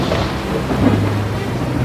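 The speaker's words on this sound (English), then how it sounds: "there suddenly came a storm" Thunderstorm effect under a sea-storm story narration, with a low rumble of thunder and steady rain hiss filling the short stretch at a constant, fairly loud level.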